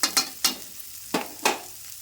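Onions fry to a medium golden colour in a pan for a village-style vegetable curry, heard as several short sharp sizzling bursts, likely from stirring, between quieter moments, close and with no talk.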